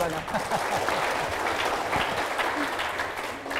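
Audience applause at a health talk show in Lombok, a steady wash of many hands clapping at moderate loudness with some voices mixed in beneath it.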